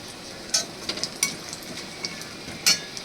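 Two cinnamon pieces and three crushed cardamom pods with cumin seeds sizzle in hot oil, giving a steady, fairly quiet hiss broken by scattered sharp pops and crackles, with no talking.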